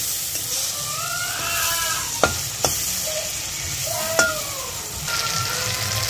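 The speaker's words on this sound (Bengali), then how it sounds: "বেসনের গন্ধটা কাটানোর জন্য কিছুক্ষণ তেলের মধ্যে নাড়িয়ে নিতে হবে।" Gram flour and chopped tomato being stirred in hot oil sizzle steadily, with a spoon scraping the pan in sweeping strokes and a few sharp knocks against the pot, close and alone.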